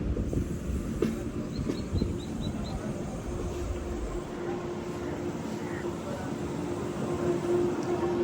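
A train on the Visakhapatnam to Araku line rounds a curve in monsoon hill country, giving a steady close rumble of wheels on track, with faint squeals and scattered clicks.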